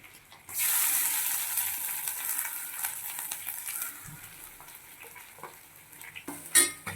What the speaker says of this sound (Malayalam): ചെറു തീയിൽ വേണം ഈ തേങ്ങ വറുത്തെടുക്കേണ്ടത്